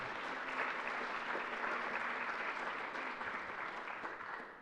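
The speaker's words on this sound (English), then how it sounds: "you all deserve a round of applause" Applause from attendees at the closing session of a rural livability workshop in Portland, Maine, dense steady clapping heard from a distance that fades slightly toward the end.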